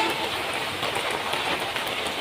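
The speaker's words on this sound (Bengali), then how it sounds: "টানা আজকে 27 দিন ধরে বৃষ্টি।" Heavy, unbroken rain pours down during a long spell of monsoon downpours in Bangladesh, a dense steady hiss of drops drumming on surfaces with no voices.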